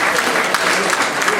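Brief burst of audience applause at a New Year's greetings ceremony for a minister, loud close clapping that stays dense and even throughout the short stretch.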